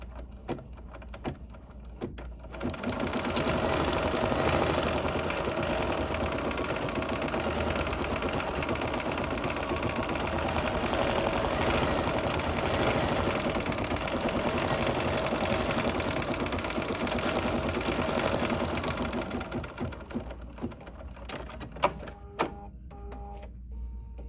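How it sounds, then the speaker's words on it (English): An embroidery machine runs a placement stitch for a cotton candy design, whirring steadily and rapidly for about fifteen seconds before stopping, followed by a few light clicks and taps. "now we're ready to do the placement stitch for the cotton candy"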